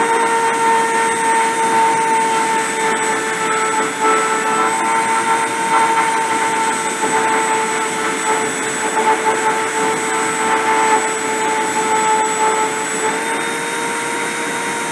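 A CNC machine spindle runs at a steady high whine with sustained tonal hum, continuous and close, without talking.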